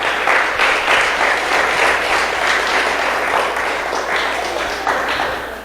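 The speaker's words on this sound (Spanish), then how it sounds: "Denle un aplauso," Church congregation applauding, a dense, steady wash of many hands clapping that holds for several seconds and slowly eases off.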